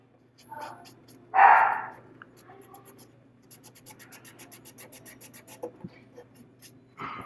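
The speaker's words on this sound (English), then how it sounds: "Our little dog is barking at the birthday balloons." A small dog gives one sharp, loud bark at balloons, followed by a quiet stretch of faint rhythmic scratching and rubbing sounds.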